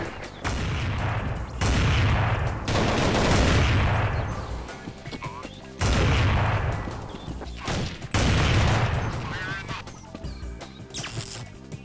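Rapid weapon fire in a professional Counter-Strike match comes in loud bursts of shots with brief pauses between them, and an excited commentator talks over the action throughout.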